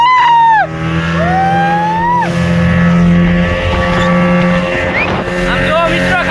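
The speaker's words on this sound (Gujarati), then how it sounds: "ફાઇનલી મિત્રો આપણી બોટ સ્ટાર્ટ થઈ ગઈ" A boat near Dwarka has just started its engine, which drones loud and steady with sweeping pitch changes as it runs, while voices talk over it.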